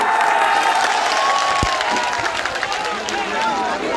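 A large crowd at a political rally roars and cheers in a continuous dense wash of voices and applause, loud and sustained throughout.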